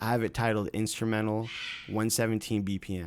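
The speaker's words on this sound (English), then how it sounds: "If you hear that in the background, I'm sorry, that's my bird." A pet bird squawks loudly in a home recording space, harsh calls breaking in between and over a man's speech, close by.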